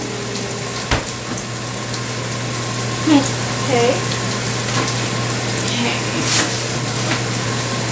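Water runs from a kitchen tap in a steady, close stream with a few splashy clinks against the sink while pasta carbonara is being cooked. A person speaks briefly over it.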